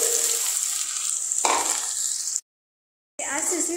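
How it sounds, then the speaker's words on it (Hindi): Cumin seeds and onion frying in hot oil for desi-style Maggi: a loud, close sizzle that flares as the onion goes in, then cuts to brief silence before the sizzling resumes. "जियां कि जीरा थोड़ा तड़कन लगा, ते ओह्दे बाद मैं पाई ओड़ेआ एह्दे च प्याज"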